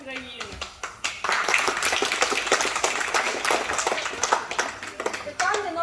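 Applause for team Chaika at a school Constitution Day event in Ukraine: dense, steady clapping from a crowd for several seconds, with a voice speaking at the start and end.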